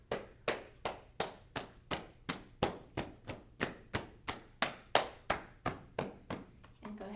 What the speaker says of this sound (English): you're going to slap up the inside of the legs